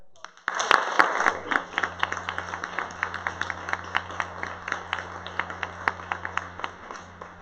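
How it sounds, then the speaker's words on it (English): An audience at a tech meetup fireside chat gives a round of applause that breaks out suddenly and then settles into steady, moderately loud clapping for several seconds. "please, round of applause."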